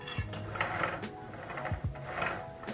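Mechanical whirring and clicking from a Titan short wall-mounted cable pulley tower being pulled, not perfectly smooth, with a few low thumps and ratcheting rattles over nearly three seconds, fairly close and steady.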